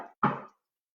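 A single firm knock on a deck of tarot cards during a card reading, one short dull thud standing alone after a brief murmur of talk.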